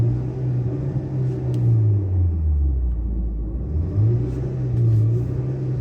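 A Skoda Superb with cylinder 1 and 4 misfire faults is revved with the accelerator, its deep engine drone dipping and swelling in pitch through two long rev cycles, close and loud with no talking.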